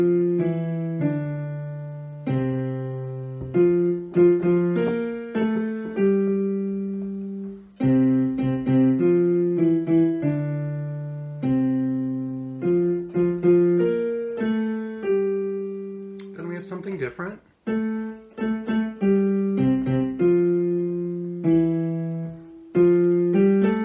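A hymn tune plays as a steady melody with clear sustained harmonic notes over lower supporting lines, loud and continuous with brief pauses between phrases and no voices.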